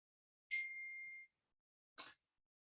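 Two short electronic notification chimes from a mobile phone left switched on during a live class, the first a bright ding with a sustained tone, the second a brief burst a moment later, both clear and alone in a quiet room.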